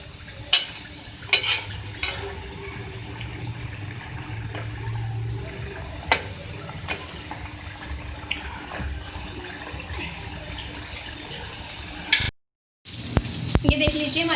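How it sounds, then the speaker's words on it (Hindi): Chicken macaroni samosas frying in hot oil, a steady low bubbling sizzle with occasional clicks and utensil knocks close by, broken by a brief silence near the end. "देखिए, हमारे समोसे फ्राई हो रहे हैं।"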